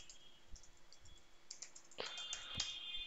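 Rapid typing on a computer keyboard while commands are entered in a terminal, with soft irregular key clicks and a few sharper taps over a faint steady hum, close and fairly quiet.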